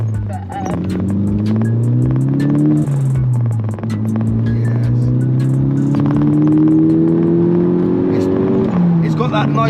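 A Stage 1 tuned Mk6 Golf GTI engine revs hard and pulls through the gears, with two rising harmonic sweeps split by a quick shift around three seconds, loud and close from inside the car, with some talk underneath.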